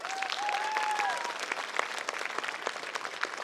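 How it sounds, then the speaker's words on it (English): A crowd at a community unity gathering in Gympie gives a short round of moderately loud applause, steady clapping with a few distinct claps and a whistle-like tone early on. "So big round of applause for Lou O'Brien"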